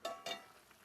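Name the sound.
stirring banana stem aviyal boiling in a pot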